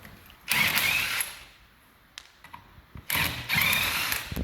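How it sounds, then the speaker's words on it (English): A socket wrench undoes the wheel nuts on an abandoned car in two loud bursts of fast ratcheting whir, with a few clicks and knocks between them, close by and with no talk. "we've just undone all 4 wheel nuts on this"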